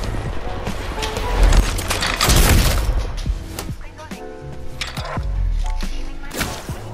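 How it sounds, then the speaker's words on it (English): Apex Legends gunfire bursts as repeated sharp, loud cracks and snaps scattered through the clip, some close and heavy, amid game noise with occasional voices. "Oh, I'm getting shot at, yeah."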